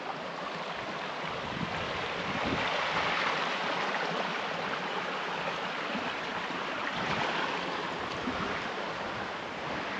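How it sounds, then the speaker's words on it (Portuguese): Floodwater after heavy rain rushes steadily across a ranch, a dense continuous roar of flowing water, loud and close with some wind, lasting ten seconds without talking. "Olha aí que aguaceiro correndo aí, galera."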